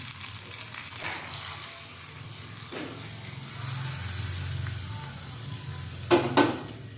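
Tempering of mustard seeds, urad dal, asafoetida, curry leaves and dried red chili crackling in hot oil for coconut chutney, a continuous close sizzle with a few sharp popping spatters and stirring noises, no talk.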